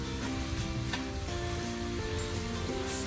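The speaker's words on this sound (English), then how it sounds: "It's just to fry for 1 to 2 minutes." Bottle gourd palya frying in a pan with masala, a steady close sizzle that holds at an even level throughout, with no voices.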